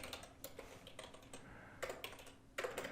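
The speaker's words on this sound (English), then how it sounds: "Oops, if I can type" Typing on a computer keyboard while entering expenses into a cleaning-bid form: quick irregular clusters of key clicks, close and fairly quiet, with a louder burst of keystrokes near the end and no talking.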